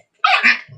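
A dog at home gives a single sharp bark, loud and close, followed by a brief low rumble.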